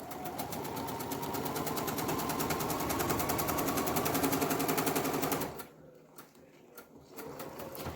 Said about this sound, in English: now stitch all the way down with a 1/4 inch seam allowance